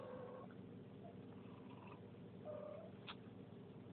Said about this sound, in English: Those of you that know cats, you can hear her in the background.